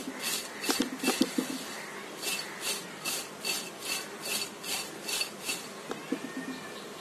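A fried potato snack is tossed with salt and chaat masala, making a close, rhythmic series of about a dozen scraping strokes against the dish, with no talking.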